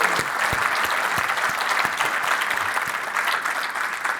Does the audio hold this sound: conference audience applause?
yes